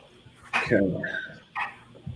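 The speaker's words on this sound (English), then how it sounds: "Dogs only on the weekends." A dog gives two or three short barks and yips nearby, with quiet gaps between them.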